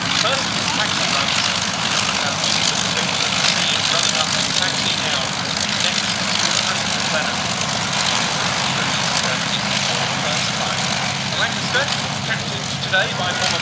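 An Avro Lancaster bomber's piston engines rumble during a taxi run on an airfield runway, a loud, steady, dense propeller-engine roar that continues unbroken throughout.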